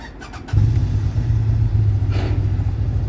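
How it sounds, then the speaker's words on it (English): A 2022 CFMoto U-Force 1000 XL six-passenger side-by-side with a V-twin engine and a modified quiet exhaust starts with a brief clatter, then a steady, fairly loud, low throbbing growl at close range. "That V-twin got that nice growl to it."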